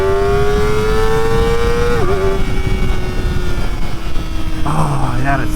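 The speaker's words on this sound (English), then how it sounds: "That quick shifter is so smooth. Oh, this is such an awesome bike." A Kawasaki ZX-4RR motorcycle accelerates hard with a quick shifter, its high-pitched inline-four whine climbing steadily, dipping briefly at a seamless upshift, then pulling on loud and close under wind rush.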